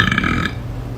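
A woman lets out a single loud, rough burp lasting about half a second, which then drops to quiet low background noise.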